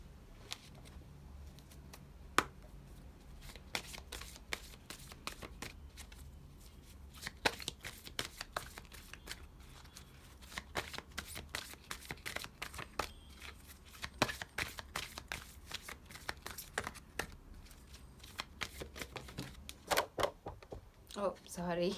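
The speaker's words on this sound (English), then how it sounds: "I'm going to shuffle on screen." A deck of tarot cards is shuffled close up, with many quick papery riffles and taps in uneven bursts throughout, fairly quiet.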